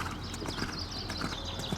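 Horse hooves cantering during dressage training in an arena, a steady rhythmic clip-clop of footfalls running continuously and fairly close for almost two seconds, with no talking.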